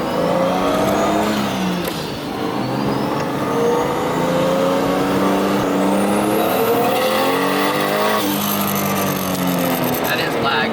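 A Nissan Silvia with a 1JZ engine is driven hard, its loud engine note climbing and falling through repeated revs and shifts throughout, heard from inside the car with voices talking over it.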